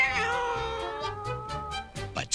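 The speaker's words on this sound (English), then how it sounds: "The kitten was glad to see Baby Todd and made this sound." A kitten gives a drawn-out, wavering meow, close and clear, ending in a short sharp squeak.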